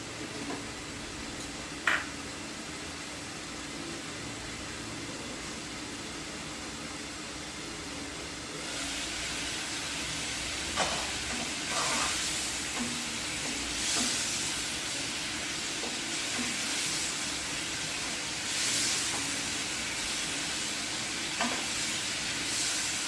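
Fish curry simmers on a gas stove after hot water is added, giving a steady low bubbling and hissing that grows busier partway through, with a few soft clinks of utensils.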